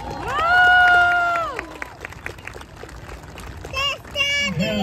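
Crowd at a youth softball spring ceremony cheering with loud sustained shouts and whoops, followed by scattered voices and shorter cries from children, under a noisy room-like ambience.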